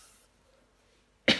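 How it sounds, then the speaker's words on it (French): A single sharp cough bursts out at the end after a near-silent stretch, close and fairly loud. "je vais tousser jusqu'à la fin de ma vie"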